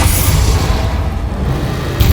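In the video game Hogwarts Legacy, a Confringo spell explodes with a loud, booming blast that rolls on as a low rumble for about two seconds and then gives way to a sharp click at the end.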